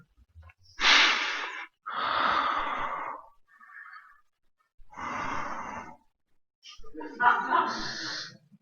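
Slow, deep breaths demonstrated by a man, several long airy inhales and exhales with pauses between, close and fairly loud, mimicking the heavy breathing of sleep.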